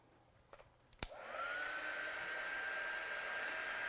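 Hair dryer blowing on a first layer of watercolour paint, starting with a click, then spinning up into a steady whirring hum with a rising tone that holds to the end, close and moderately loud.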